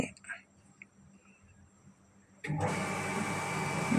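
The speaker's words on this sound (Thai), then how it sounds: "เสียงกอก น้ำ" A water tap turned on suddenly after a quiet stretch, then running as a steady, close, broadband hiss and splash until the end.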